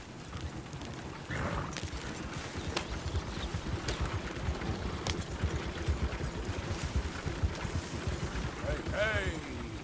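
Horse hooves clip-clopping at a steady galloping rhythm in a video game, continuous and fairly close throughout, with a rider's voice and other game sounds briefly over it.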